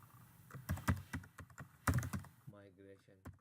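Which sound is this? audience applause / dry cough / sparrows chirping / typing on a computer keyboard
typing on a computer keyboard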